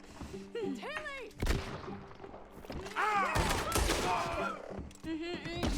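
Gunshots in Red Dead Redemption 2, a few sharp loud bursts spaced irregularly, one near the middle and a cluster later, mixed with a voice and tonal game sounds underneath.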